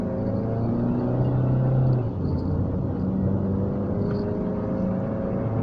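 A 2007 Kia Picanto's small engine revving under a pushed accelerator, a steady loud droning hum heard from inside the car, with the pitch rising briefly and then settling.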